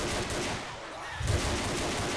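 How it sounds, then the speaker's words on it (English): Rapid gunfire from a firefight in the video game Left 4 Dead, a dense, continuous rattle of automatic shots that swells into a heavier burst about halfway through. "I was just randomly shooting."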